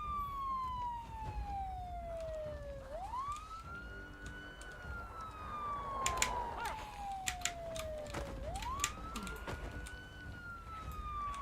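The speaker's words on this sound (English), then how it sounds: "I was going to try and turn the siren off" A police car siren in the video game Project Zomboid wails in long, repeating sweeps, rising and falling twice, loud and steady, with a few sharp clicks or thuds over it.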